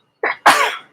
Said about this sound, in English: the cold air from behind me is making me sneeze